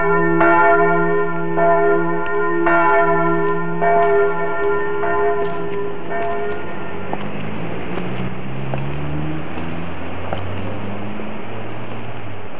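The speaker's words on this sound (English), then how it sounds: "it would be an awful clamor when the church bells would go off at noon" Church bells in Bridgeport, Connecticut ring out at noon with loud, evenly spaced strikes close by, then a long shimmering decay under a low wind rumble.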